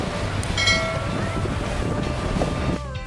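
Strong wind buffets the microphone at a sandy seafront campsite, a steady loud roar with broadband gusts running throughout, fading slightly near the end.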